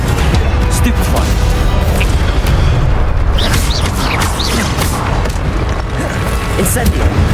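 Stupefy spells cast during a combat fight in Hogwarts Legacy, heard as loud booming magical blasts and crashes that hit repeatedly over a dense, continuous battle din, with voices shouting underneath.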